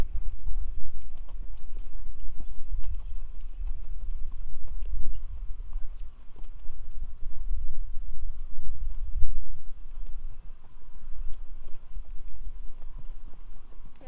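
Hooves of a horse at a walk clop steadily on hard ground during a schooling session, an even, close, moderately loud rhythm with no voices over it.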